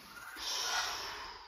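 A deep, steady inhalation through the nose during a Pilates breathing exercise, a soft airy rush that builds and holds for over a second, close and quiet.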